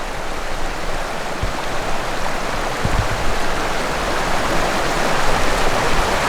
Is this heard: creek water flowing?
yes